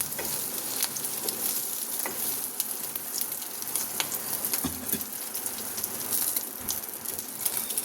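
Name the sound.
Maggi omelette frying in oil in a pan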